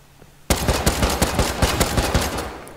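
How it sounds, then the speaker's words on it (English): Automatic gunfire in the survival game Rust breaks out suddenly as a rapid burst of about a dozen sharp shots in quick succession, loud and close, with no talking. "Is that one of you guys shooting?"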